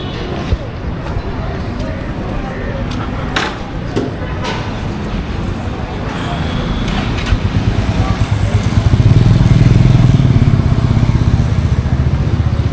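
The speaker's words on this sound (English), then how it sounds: "See, this is Yamaha R3" A Yamaha R3 sport motorcycle on a street in Nepal, its engine steady and loud, then building to a stronger drone near the end, with street noise and voices around.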